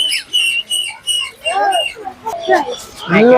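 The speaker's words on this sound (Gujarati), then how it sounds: "આપણને અહીંથી પોપટ જોવા મળે છે" Shrill chirps and whistling calls from parrots, including rainbow parrots, and small birds at Sarthana Nature Park zoo in Surat, repeating in quick bursts close by, with a voice speaking partway through.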